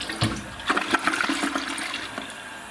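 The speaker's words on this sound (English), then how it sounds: "let's do a flush" A household toilet with black mold inside it being flushed, with loud, close rushing and gurgling water that keeps churning steadily, and no voices.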